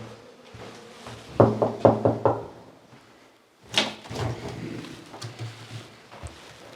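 Several quick knocks rap on a reception office door, loud and close, followed by the door opening with a clatter and some shuffling in an indoor hallway.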